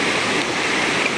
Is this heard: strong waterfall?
yes